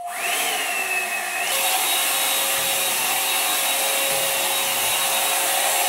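A hot air hair brush with four settings including off runs continuously during hair styling, a loud steady whirring blower roar with a whine that shifts briefly before settling into a constant tone; no talking.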